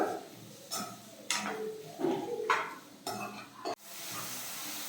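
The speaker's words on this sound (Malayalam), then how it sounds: "ഇനി ഇതും കൂടി ചേർത്ത് നമുക്ക് നന്നായിട്ടൊന്ന് വഴറ്റി എടുക്കാം." Curry leaves and slit green chillies sautéing in a pan for Kerala pepper chicken roast, with repeated stirring scrapes and sizzling bursts at close range, ending in a steadier hiss.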